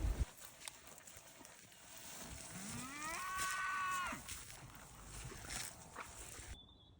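A single cow lets out a long, rising moo at middle distance on a still, calm-weather farm, set against faint outdoor background noise.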